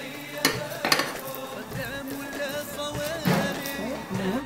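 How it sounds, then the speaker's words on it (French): A spoon stirring onion and meat in a small pressure cooker for harira, with scattered metallic scrapes and clinks over a soft sizzle, moderately close. "on va mélanger l'oignon, la viande"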